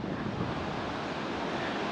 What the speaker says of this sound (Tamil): இது வந்து மாயாறு தான் உங்களுக்கு பாருங்கள். தண்ணி சும்மா பயங்கரமாக போயிட்டுருக்கு.